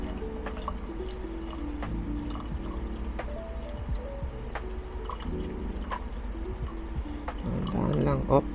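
Room-temperature water is poured into a mixing container while preparing a product, giving soft trickling and dripping sounds under ongoing room noise and a faint voice.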